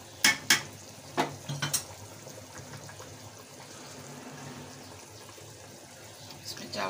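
Soaked rice tipped into a pot of boiled chana dal and stirred, with a few sharp clinks and scrapes of a spoon against the pot early on, then a soft steady simmer.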